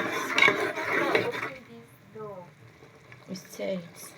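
A spoon stirs a pot of ogbono okra soup with scraping and bubbling sounds that fade after a moment, and a voice speaks briefly over the cooking.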